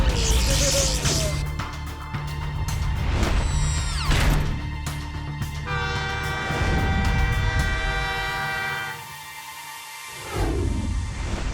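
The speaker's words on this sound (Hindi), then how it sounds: "वो देखो, ट्रेन आ रही है और तुमने ट्रैक तोड़ दिया।" A cartoon train approaches along a track, its horn sounding in long sustained tones over rumbling rail noise and a busy animated soundtrack, loud and close throughout.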